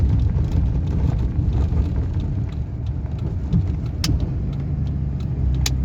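Steady roar of many cars passing at a busy evening spot, a dense continuous traffic rumble with faint higher hiss, heard from nearby without talk.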